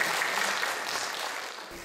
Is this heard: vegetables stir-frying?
no